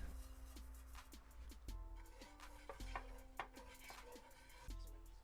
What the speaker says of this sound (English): As the seeds start to sizzle, add the chilies and fry for around 5 minutes to begin to soften, stirring occasionally.